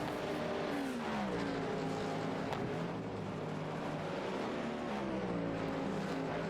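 Porsche race cars in a sim racing 24-hour endurance event, steady loud engine drone with rising and falling pitch as cars rev through the corners, constant and close with no talk.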